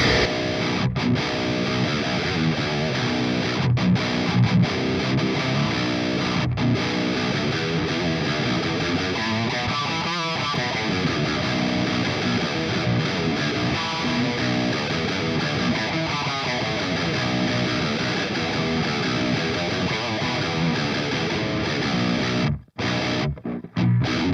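Seven-string guitar played through a Revv Generator 120 Mk3 amplifier with heavy distortion, a dense, sustained riffing tone filling the whole stretch at steady loudness with a brief dropout near the end, no voice.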